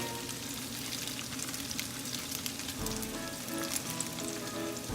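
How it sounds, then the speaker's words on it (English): Bacon strips and peppercorns sizzle steadily in a frying pan, a dense continuous crackle with small pops, close and fairly loud, with no one talking. "Let it go really, let them go crispy, let them brown the sides of the bacon."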